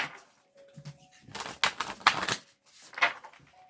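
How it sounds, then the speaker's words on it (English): Brisk riffling and clicking bursts of cards being shuffled, a few quick flurries with brief pauses between. "So we're going to do a quick shuffle through."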